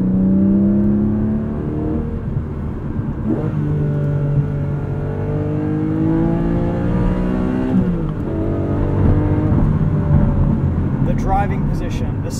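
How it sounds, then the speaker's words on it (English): A Porsche 718 Cayman GTS 4.0 flat-six engine with a six-speed manual revs and accelerates loudly with rising harmonic pitch sweeps, under continuous talking from a person nearby. "And this flat six sounds just phenomenal."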